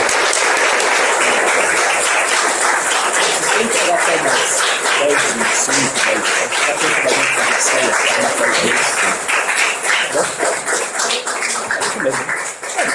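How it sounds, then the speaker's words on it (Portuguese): Loud, sustained applause from a church congregation at a dinner gathering, dense clapping filling the whole stretch with voices mixed in, tapering slightly toward the end. "Mais uma salva de palmas"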